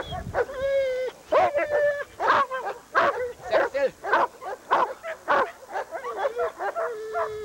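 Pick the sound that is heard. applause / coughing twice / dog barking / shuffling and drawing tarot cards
dog barking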